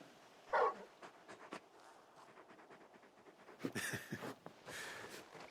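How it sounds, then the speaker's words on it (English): A dog in the video game Final Fantasy XVI gives a short, sharp whimper early on, followed by soft panting and shuffling over a quiet game ambience. "You're just a big puppy, aren't you? A very big puppy."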